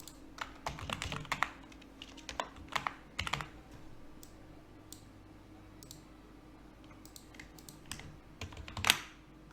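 Keys clatter on a computer keyboard while a table is filled in within MS Word, with quick bursts of close, crisp typing separated by short pauses and a faint steady hum underneath.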